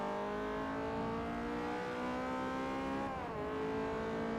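A 1970 Fiat X1/9 sports car engine in the video game Forza Motorsport 4 drones at high revs, pitch climbing steadily, dipping briefly at a gear change, then rising again, loud and continuous.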